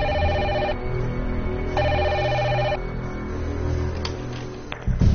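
A telephone ringing in a quiet small town, two electronic ring bursts about a second long separated by a pause, heard over a low background hum.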